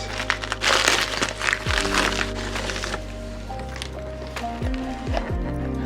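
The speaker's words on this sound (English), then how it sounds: "let's quickly unwrap this" Packaging of an iPhone 14 Pro Max, 512GB deep purple, being unwrapped at a desk: close crinkling and rustling with several brief crackling peels over a faint steady hum.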